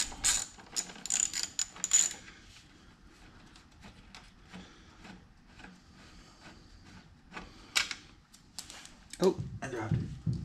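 Ratchet turning a 10 mm bolt on a 1988 Honda Goldwing 1500 while removing the front tire, heard as bursts of quick, close mechanical clicking at the start, a quieter stretch, then more clicking and a clunk near the end.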